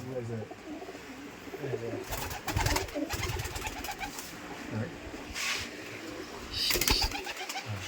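Giribaz pigeons cooing at a farm, soft repeated coos and a few fluttery bursts close by, with people talking in the background.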